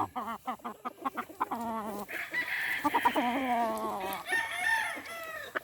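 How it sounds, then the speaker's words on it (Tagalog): A young rooster, a stag called Golden Boy in a small backyard gamefowl yard, crows loudly and clearly several times, with short clucks and other fowl calls before and between the crows. "Ito naman yung stag natin."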